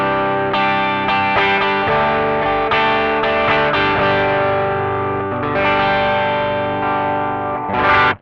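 An electric guitar runs through an Ibanez TS9 Tube Screamer set to low drive, playing a strummed chord-based backing with mild, rounded crunch, ringing chords that sustain and change, alone and loud.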